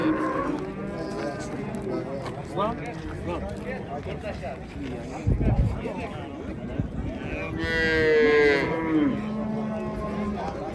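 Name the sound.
cows mooing at a cattle market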